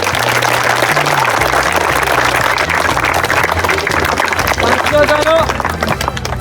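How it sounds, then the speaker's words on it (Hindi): Applause and cheering from a crowd fill a college stage magic show at BKB College, Manatri, Mayurbhanj, a steady loud wash of clapping with voices mixed in throughout. "टिके जोर जार ताली दियो"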